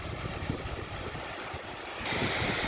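Water pours over the spillway of Vijay Sagar Dam in Mandvi, Kutch, a continuous broadband rush that grows louder near the end, mixed with wind buffeting the microphone and no voices.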